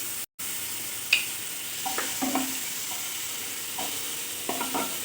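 Butter sizzles in a pan before onion and capsicum go in for white sauce pasta, a steady soft frying hiss with a few light clinks and scrapes of stirring, no talk.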